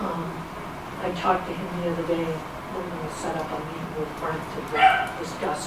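A pet dog whimpers and yips intermittently in the background of a small-town selectman meeting, faint and scattered beneath steady conversation.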